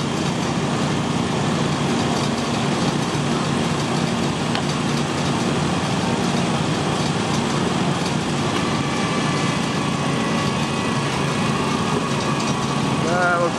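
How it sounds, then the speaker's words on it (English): A garden tractor engine runs steadily under load at a stone boat pull at the Bridgewater Fair, a continuous close, loud drone throughout with crowd and announcer murmur underneath. "Good pulling tractor."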